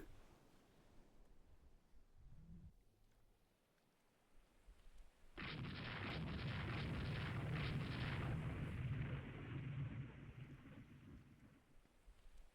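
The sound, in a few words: missile hit explosion in the video game Rule the Waves 3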